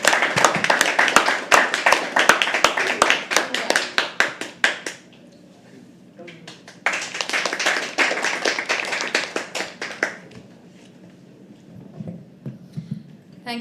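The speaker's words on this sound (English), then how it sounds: "Keep clapping till she comes on stage." At a live poetry open mic, the audience claps as a poet comes on stage: two bursts of brisk, crowded handclaps, each several seconds long, with a quiet gap between them and faint room murmur and a few stray claps after.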